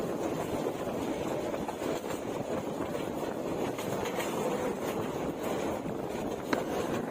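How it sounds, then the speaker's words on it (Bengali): A train bound for Sylhet runs with a steady broadband rumble and rattle, mixed with wind buffeting the microphone, moderately faint and continuous, with no voices. "ঝকঝকাঝকে ট্রেনের আওয়াজে ছুটে চলছে এই ট্রেনটি আজকে সিলেটের উদ্দেশ্যে"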